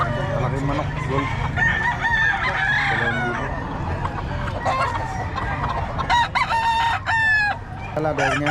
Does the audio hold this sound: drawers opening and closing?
no